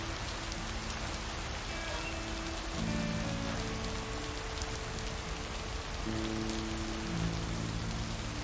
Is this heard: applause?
no